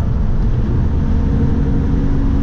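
Steady, loud engine and road roar from a truck pushed hard on the highway, a continuous low rumble with no breaks and no voices.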